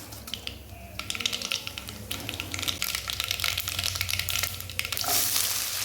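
Steady crackling sizzle of mustard seeds and split lentils frying in hot oil, close and continuous, with a few brighter pops and stirring noises, no voices.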